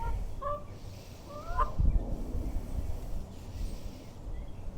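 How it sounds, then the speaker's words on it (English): A chicken wandering near an outdoor yoga session gives a few short clucks early on, faint over soft background ambience, followed by a low thump. "This chicken is just like really into yoga."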